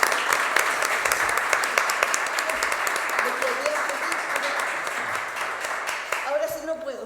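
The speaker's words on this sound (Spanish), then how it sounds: "Un gran aplauso." An audience at a Spanish-language academic event on deaths in prison gives a sustained round of applause, dense clapping that fills the room before tapering off as a voice begins speaking at the end.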